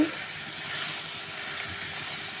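Green chillies and tomatoes sautéing in a pan for a fiery village-style chutney give off a steady, close, even hiss that holds without a break and with no talking.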